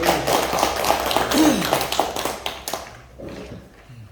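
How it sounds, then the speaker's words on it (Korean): Applause from a small audience at a Korean administrative agents' association meeting in Cheonan: a burst of clapping for about three seconds that fades out, with faint background voices. "우리 박수 한번 우리 박수 한번."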